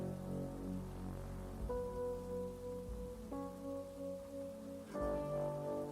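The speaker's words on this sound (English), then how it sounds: "Does it often rain like this here?" Rain falls at night in the game Travelling At Night, a soft, steady patter. Low tonal notes rise beneath it at intervals.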